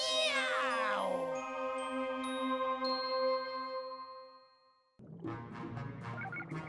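A long drawn-out meow slides down in pitch and holds, fades, then a second rougher meow follows right after.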